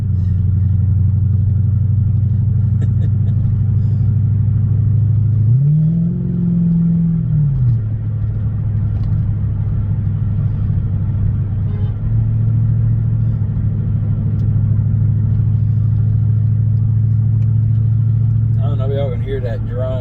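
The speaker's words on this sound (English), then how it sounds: "Hear that drone in the video, but I love my exhaust." Steady low exhaust drone from inside a moving Lexus LS400, a constant deep hum with a brief rise in pitch partway through.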